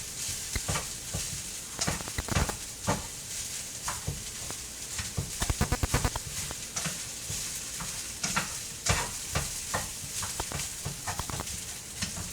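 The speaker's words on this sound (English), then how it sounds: "we are starting to get some rice caramelized on the bottom of the skillet." Kimchi bacon fried rice sizzles and crackles in a skillet as it caramelizes on the bottom, with frequent scraping and stirring clicks over a steady frying hiss.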